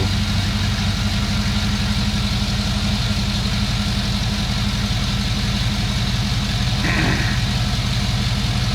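A Chevy 5.3 LS V8 from a 2005 Tahoe 4-wheel drive, swapped into a 1987 Chevy truck, idles steadily and loudly with an even low rumble and no change in revs.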